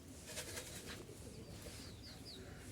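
Jalali pigeons coo softly in the distance over a constant low background hum, with faint chirps and a hint of wingbeats; the whole scene is quiet and distant.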